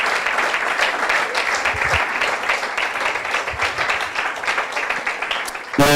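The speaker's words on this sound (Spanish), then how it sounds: "dale un aplauso fuerte al Señor" A church congregation gives loud applause, dense and steady for several seconds, ending in a brief louder burst at the close.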